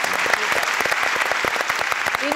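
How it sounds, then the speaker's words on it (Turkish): Loud, steady applause from a television studio audience, rapid claps blending into a continuous wash for the whole stretch. "Bir alkışlayacağız. Büyük alkış Hakkı'ya"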